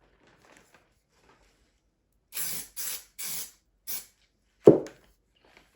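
Four short hissing bursts from an Amaco Sprayz aerosol glaze spray can in quick succession, followed by a light clack, in a quiet room.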